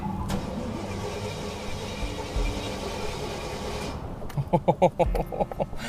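A blown Jaguar rat rod engine cranks and catches, starting up with a rough, uneven rumble; steady mechanical noise runs beforehand and pulsing bursts follow the start.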